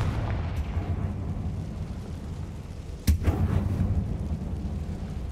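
In Hogwarts Legacy, the Confringo fire spell bursts with one sharp explosive crack that spreads into a rumbling boom over a steady low background of game ambience.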